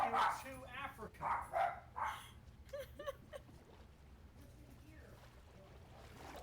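Pet dogs at home bark in a quick burst of loud, close yaps, then quieter whines and yips follow while a person talks nearby over a low steady hum.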